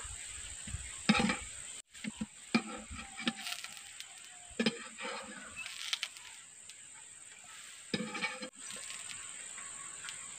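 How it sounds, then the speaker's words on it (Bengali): Rice flour and ghee pitha frying in a pan, a soft continuous sizzle with intermittent scraping and clattering of a utensil against the pan, close and fairly quiet. "এগুলোকে কিন্তু আমি লাল লাল করে ভেজে নিয়েছি। এবার এগুলোকেও তুলে নেব।"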